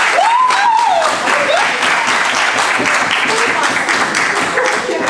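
Sustained applause from a banquet crowd at a college athletics awards dinner, with a voice speaking faintly over the steady clapping.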